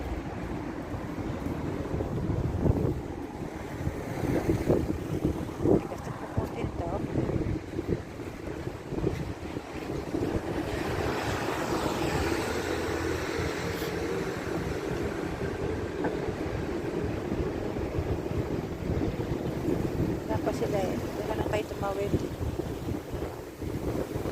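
Strong wind roars and buffets a microphone throughout in a park, a steady rushing blast with faint voices in the background.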